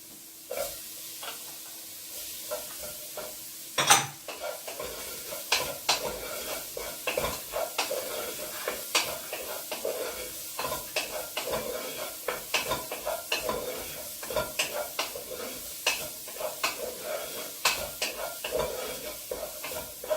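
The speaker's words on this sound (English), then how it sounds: "And now we can add our pepper." Peppers go into a Mexican-style beef stew pot, giving a steady close sizzle with repeated scraping and clinking from a spoon stirring against the pot, and one sharper knock early on.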